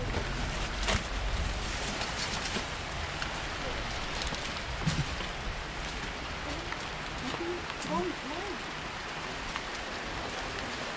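Steady rain pouring down outdoors, a dense continuous hiss with scattered drops hitting surfaces close by, while people talk quietly underneath.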